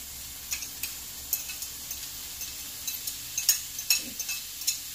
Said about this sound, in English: so I can have the jalapeno and onion flavor blended in with it, I'm going to mix them together